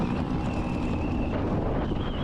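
Strong wind roars steadily and loud, as if against the microphone, during a night motorcycle ride on a Fazzio scooter with a cargo setup along the Marilaque highway, with a faint engine hum underneath and no talking.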